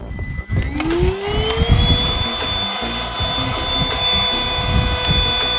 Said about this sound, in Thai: ดี๋ยวดูดฝุ่นปัดฝุ่นก่อน